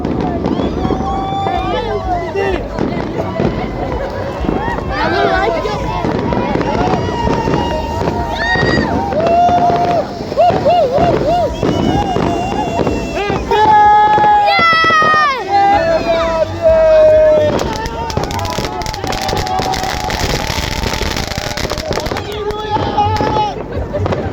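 New Year fireworks going off, with crackling bursts and whistling, sputtering effects over a steady background of noise. A crowd chatters and calls out throughout.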